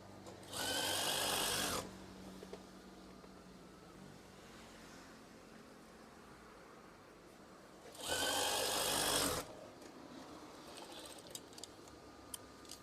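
A sewing machine stitches curtain fabric in two steady whirring bursts of about a second each, up close, with quiet handling noises between them.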